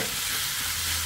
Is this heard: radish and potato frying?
yes